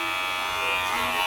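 Electric hair clippers fitted with a number 2 guard buzz steadily and close during a self-cut mid fade, a constant unbroken drone with no pauses.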